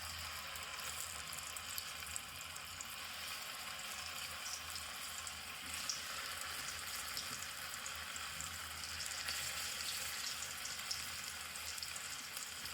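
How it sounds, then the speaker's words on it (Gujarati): Potato rolls fry in hot oil with a steady, dense sizzle that holds evenly throughout, with no voices over it. "તો મિત્રો આપણે હવે ફ્રાય કરીશું તેલમાં."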